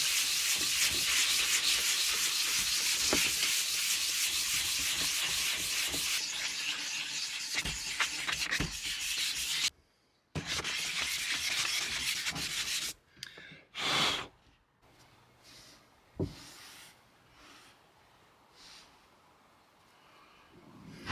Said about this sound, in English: I'll start hand sanding this thing, get it a lot smoother, a lot nicer